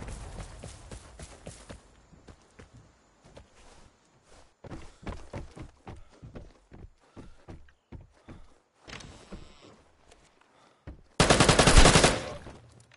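M249 light machine gun fire in the video game Vigor: scattered sharp shots and short bursts, ending in a loud, sustained burst near the end, with no talking.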